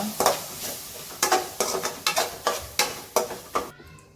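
Garam masala and turmeric are sautéed in a pan for bread Manchurian, with about nine distinct, evenly spaced spatula scrapes over a faint sizzle, close and quiet, ending abruptly.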